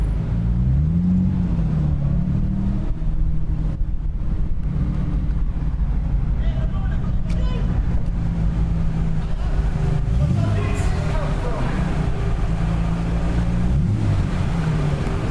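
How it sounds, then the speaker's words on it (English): Cars boarding a ferry at the start of a trip to Le Mans, with deep engine rumble and droning vehicle and vessel noise throughout, gusts of wind on the microphone and occasional distant shouting from crew directing traffic. "The first one, the sound of boarding this ferry."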